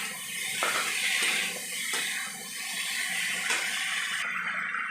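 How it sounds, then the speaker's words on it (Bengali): Water pouring into a pan of frying spices for a cauliflower roast, a continuous rushing splash with hiss, fairly close, with no speech. "এবার আমি এর মধ্যে জল দেবো"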